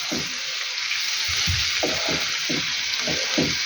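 Steady sizzling of chopped peppers and vegetables frying in a pan, with soft stirring clicks and scrapes rising through the hiss.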